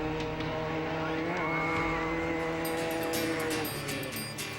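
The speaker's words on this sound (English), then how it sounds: "Here comes the Volkswagen of Jerry Hill." A Volkswagen Bug race car roars steadily through the desert during the Baja 1000 off-road race, its engine drone loud and continuous with a rising pitch partway through. No one speaks.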